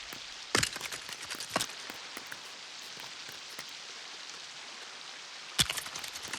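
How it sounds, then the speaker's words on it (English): Rain falling in the Lego Fortnite video game, a steady soft patter of drops on surfaces with a few sharper, louder taps standing out, heard alone without talk. "This rain's kind of annoying."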